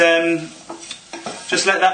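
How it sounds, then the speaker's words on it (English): Food is stirred in a pan over high heat, with short scraping and clinking strokes against the pan amid a soft sizzle, following a brief tonal sound at the start. "So just give it a little stir about, and this is a really high heat"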